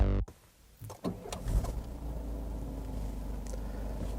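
A Peugeot 5008 GT starts after a brief mechanical clunk and a few sharp clicks, then settles into a steady, low idle rumble heard from inside the car, with no talking.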